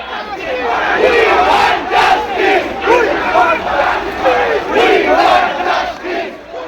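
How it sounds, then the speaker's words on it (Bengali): Football fans at a street protest for justice in Kolkata fill the air with loud, sustained crowd chanting, rising and falling in rhythmic waves of massed voices shouting slogans together. "একযোগে চলল প্রতিবাদ নব্বই মিনিটের মাঠে লড়াই ভুলে স্লোগান উঠল"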